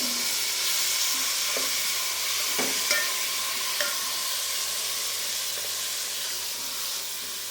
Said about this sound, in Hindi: अब हम इनको अच्छी तरह से भूनेंगे।